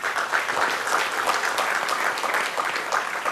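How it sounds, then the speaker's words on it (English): Conference audience applauding during a keynote address, a steady dense wash of many hands clapping, continuous and moderately loud with no speech over it. "A round of applause for that optimism."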